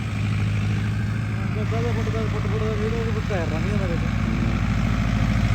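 A 4x4 tractor engine idles and runs steadily with a low, even rumble, loud and close throughout, with a person's voice heard briefly over it.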